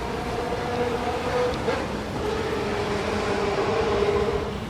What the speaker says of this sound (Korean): 여기 기차도 지나다니고 배도 지나다니고 그래서 무척 시끄러워요